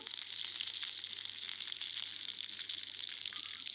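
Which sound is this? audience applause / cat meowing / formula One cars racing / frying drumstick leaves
frying drumstick leaves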